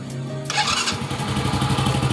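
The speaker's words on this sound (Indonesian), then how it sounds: "Pertama kita hidupkan mesinnya." A Honda Astrea Grand motorcycle engine cranks and fires up about halfway through, settling into a close, loud, steady putter for carburetor adjustment, with no talking.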